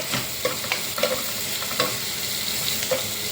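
Onions sauté in a pan for an egg and okra curry, a steady close sizzle punctuated by quick, regular spatula strokes scraping and tapping against the pan, with no voices.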